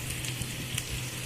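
Potato pieces with turmeric and salt sizzling steadily in hot oil in a pan, a close, continuous crackling fry with small pops and no talk.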